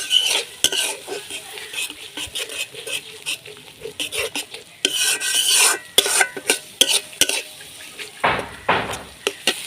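Coconut and poppy seed paste being stirred into cooking masala in a pan, with irregular scraping strokes of a spatula over a soft sizzle, the bursts coming close and uneven.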